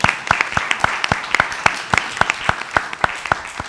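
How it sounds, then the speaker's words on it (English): Small audience at a city council meeting applauding, with a few distinct, sharp claps standing out in a loose rhythm over a softer patter, fairly close. "let's give him a round of applause."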